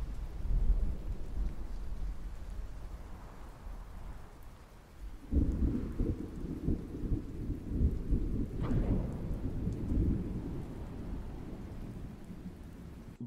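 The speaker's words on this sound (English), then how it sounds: "I tended to use the sounds of rain and wind and thunder" Stormy video game ambience of steady rain and wind with deep rolling thunder, a heavy rumble swelling midway and sustaining under the continuous hiss of rainfall, with no voices.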